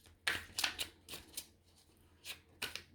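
Tarot cards are shuffled and drawn in several quick crisp bursts, close and light, separated by short quiet gaps, with no voice.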